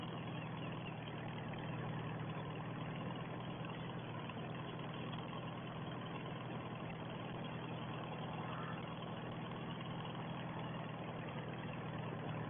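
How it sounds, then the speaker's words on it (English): A Farmall 300 tractor engine idling on a farm, a continuous heavy low rumble that stays even and close for the whole stretch, without any voices. "May well do the drilling with this tractor as well."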